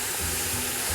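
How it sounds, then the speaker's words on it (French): Wine poured into a hot casserole of browning beef for a beef and carrot stew, giving a steady, loud hiss and sizzle throughout, close up with no talk. "Et maintenant, on va rajouter notre vin."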